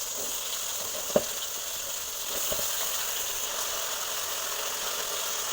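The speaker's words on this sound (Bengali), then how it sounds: "তো এটা তেলটা গরম হয়ে গিয়েছে, এখন আমি দিয়ে দিচ্ছি আমার আলুগুলা।" Potatoes drop into hot oil for a Bengali potato cutlet, setting off a steady, moderate sizzling hiss. One sharp click comes early, and the sizzling holds at an even level.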